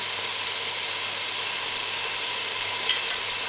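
Minced meat (qeema) frying in cooking oil over a medium flame, a steady, loud, close sizzle and hiss that runs unbroken with faint stirring clicks.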